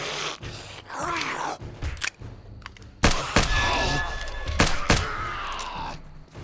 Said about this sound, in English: let's get some gunfire in here